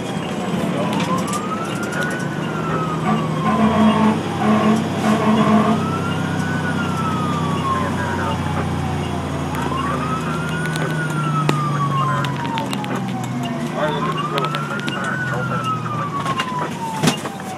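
Fire engine siren from a fire truck responding to a shed fire, wailing up and down in long, loud, steady sweeps from inside the cab, with engine rumble beneath and a voice briefly giving directions.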